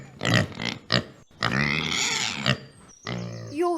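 A voice imitates a pig, giving a run of loud, close, throaty grunts and snorts in short bursts with brief pauses between them.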